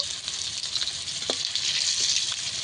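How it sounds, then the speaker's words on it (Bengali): Pieces of sur pai fish fry in hot oil, a continuous bright sizzle with a few soft stirring clinks, close and fairly loud. "প্রথমে আমি এই মাছ কটা ভেজে নেবো"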